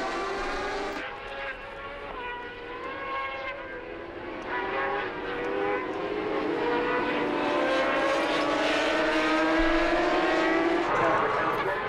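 Superbike motorcycles race at the Le Mans circuit, a pack of high-revving engines whining and shifting gears continuously and loudly, building as the bikes pass, with a commentator talking over them.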